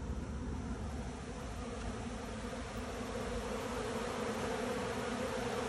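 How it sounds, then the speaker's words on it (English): Honeybees swarming around banana tree leaves give a dense, continuous droning buzz that stays steady and fairly close throughout, with no voices. "Oh, that's a cup of bees right there."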